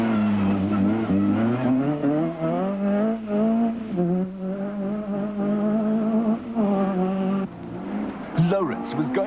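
A Ford rally car races along a forest stage with a loud, high-revving engine whose pitch climbs and drops through gear changes, and tyres squeal near the end.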